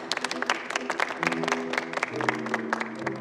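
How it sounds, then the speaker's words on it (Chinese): Clapping greets a famous jewellery designer at a formal event in a short burst of scattered applause over soft music, with a faint voice mixed in. "鼓掌"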